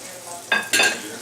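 Chickpea pancake batter sizzles in a non-stick pan. Two short, bright bursts of frying hiss come up close over a quiet kitchen background.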